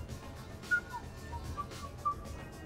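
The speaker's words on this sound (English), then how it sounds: "Are you whistling?" A character in the video game Mass Effect 3 whistles a few short, faint notes at a party, heard over a quiet background murmur.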